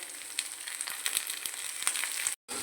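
Chopped onions and chillies fry in a pan with a steady, close sizzle and occasional crackles, with no talk.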